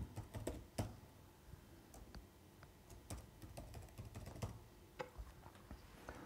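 Keys on a computer keyboard are typed in quick, irregular bursts of soft clicks and taps, close and fairly quiet, with no voices.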